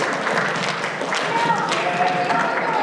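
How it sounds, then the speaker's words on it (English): A convention crowd at the NashiCon 2019 closing ceremony applauds in a steady wash of clapping that lasts the whole few seconds, with some voices mixed in. "clap for yourselves because we wouldn't be able to do this without you"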